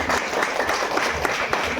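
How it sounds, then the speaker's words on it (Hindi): An audience at a family gathering bursts into warm applause, a short, dense, close clatter of many hands that stays loud for the whole moment. "उनके लिए एक बार हर्षित ताली बजाई"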